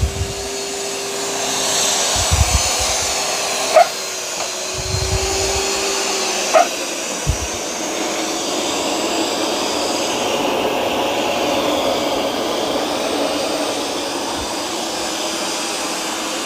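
A Eufy robot vacuum and mop runs with a continuous whirring drone, joined by a few short knocks and bumps as it moves along the floor.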